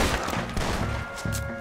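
Rapid volleys of gunfire in the western video game Red Dead Redemption 2, with dense, overlapping shots and bursts rolling across the whole stretch at a steady loud level.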